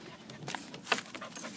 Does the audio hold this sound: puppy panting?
yes